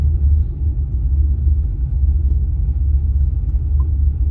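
A car rolls slowly into a parking lot at a theater in Lancaster County in late December, giving a steady low engine rumble and road noise from inside the vehicle with no talking.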